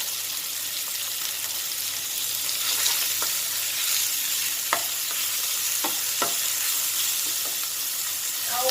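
Pork stir-frying in a pan for a Thai eggplant stir-fry, a steady broad sizzle with occasional sharp scrapes and clicks of a utensil stirring, close and continuous with no talking.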